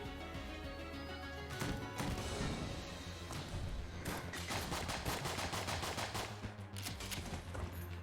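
A tranquilizer gun fires in Enter the Gungeon as a fast, continuous stream of faint, crackling shots over a dense game backdrop.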